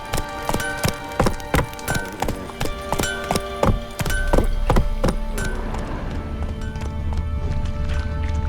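Roach the horse gallops in The Witcher 3 video game, loud, close, rhythmic hoofbeats in quick succession that give way to a steadier rumbling run, with no talk.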